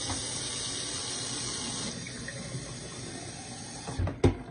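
Cold water runs from a kitchen tap to fill a glass, a steady close rushing stream for about four seconds that eases off, followed by a brief clunk and splash at the end.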